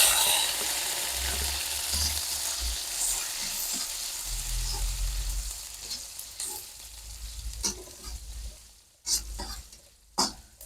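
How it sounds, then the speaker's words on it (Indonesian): Shallots and garlic stir-fry in oil, a close, steady sizzle with spatula scraping that thins out toward the end into a few sharp knocks on the pan. "Tumis bawang merah dan bawang putih."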